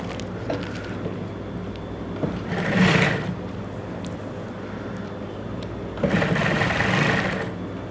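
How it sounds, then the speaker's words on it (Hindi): A sewing machine stitching a trouser hem runs in two short bursts of steady whirring and rattling, close by, with quiet handling noises and low hum in between. "अब हम इसके पांचे की सिलाई लगा के इसको बंद कर देते हैं इस तरह से।"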